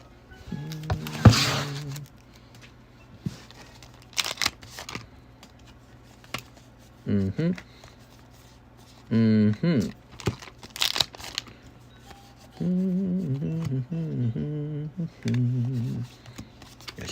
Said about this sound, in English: Go ahead and snip that up.